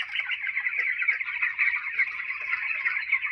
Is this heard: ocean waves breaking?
no